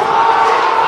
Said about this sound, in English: Crowd alive